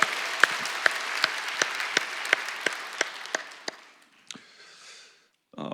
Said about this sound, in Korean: 함께 하나님께 영광과 감사의 박수를 올려드렸으면 좋겠습니다